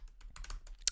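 Quick, light keystrokes on a computer keyboard as a login screen is filled in, a short close burst of clicks with no talking.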